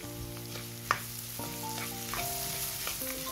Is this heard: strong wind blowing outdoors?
no